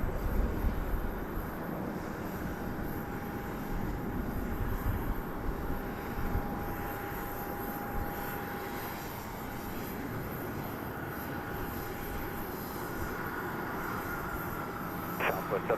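Steady distant roar of a Southwest Airlines jet departing Dallas Love Field, a continuous even engine rumble with a thin high tone running through, heard from afar without speech.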